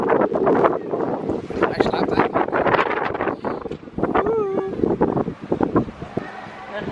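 Strong wind buffets the microphone outdoors, producing continuous loud gusty rumble and roar, with people talking over it throughout.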